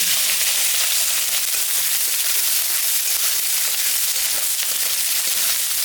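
Onion frying in hot oil, a loud, dense, unbroken hiss and sizzle held close for several seconds with no pauses and no voices.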